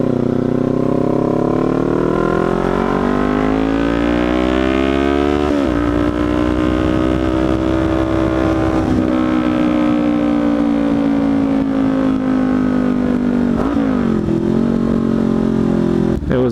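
A 56 horsepower motorcycle racing a truck roars loudly and continuously nearby, its engine pitch climbing through gear shifts with brief drops between, heard alone without talk.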